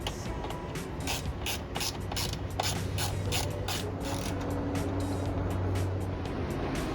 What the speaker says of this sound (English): now using our Jeep toolkit with a T40 Torx bit, we're going to tighten this one here right on down